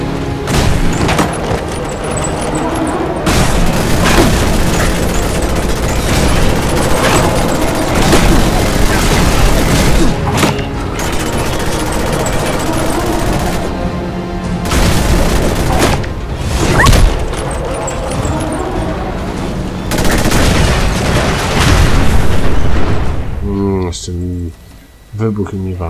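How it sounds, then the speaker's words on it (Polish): Explosions and bursts of gunfire from Fallout 4 gameplay boom repeatedly through a dense, loud mix, with speech running over them almost the whole way. "Wybuch mnie walny."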